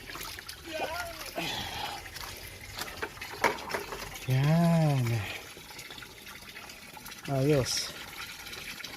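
Water is poured into a container holding red tilapia during a fish transfer, with splashing and filling bursts around people talking close by.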